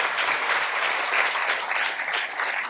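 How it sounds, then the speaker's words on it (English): An audience gives a round of applause for author Vaibhav Purandare at a literary festival conversation, a dense, even stretch of many hands clapping throughout. "a round of applause for our author today,"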